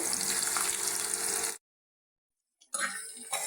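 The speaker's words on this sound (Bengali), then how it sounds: "তেলটা গরম হয়ে গেছে দিয়ে দিলাম পেঁয়াজ কুচিগুলি বেরেস্তা করে নিব" Chopped onions hit hot oil and fry to a crisp golden brown for pulao, giving a loud, dense sizzle that cuts out abruptly for about a second and then returns just as strongly.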